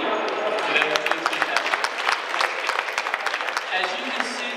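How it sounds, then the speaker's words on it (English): An audience applauds at a cannabis convention talk, dense clapping filling the hall steadily from near and far, with a few sharper individual claps standing out. "I think everybody deserves a round of applause for it"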